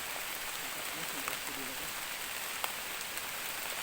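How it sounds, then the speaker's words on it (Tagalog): Steady rain pours down during a mountain trek, a dense continuous hiss with scattered sharper drops hitting nearby surfaces, filling the whole scene without pause. "sa ilalim ng ulan"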